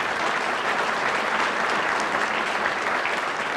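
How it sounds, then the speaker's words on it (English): A banquet-room audience at a touchdown club luncheon gives a sustained round of applause for the sponsors, a dense, even wash of clapping that holds steady throughout. "Let's give all of our sponsors a round of applause"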